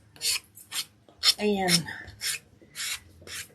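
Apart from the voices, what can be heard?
sanding block rubbing paper edge on wood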